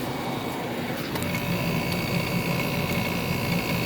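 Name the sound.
SoleusAir 1.5-ton ductless heat pump running in cool mode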